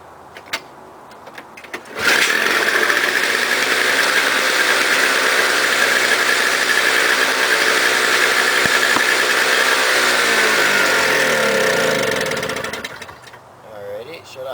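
Toro CCR2000 snow blower engine roars loudly at full throttle for about ten seconds with a steady, buzzing drone, then winds down and stops as it is shut off; a voice speaks briefly near the start.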